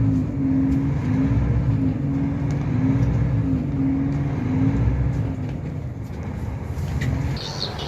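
An FMX 500 truck pulling away from a stop in automatic transmission gives a steady, close engine drone with a wavering low tone, continuous and fairly loud throughout.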